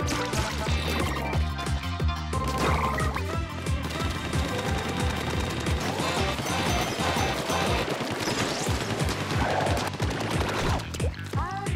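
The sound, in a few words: ink shooting in video game Splatoon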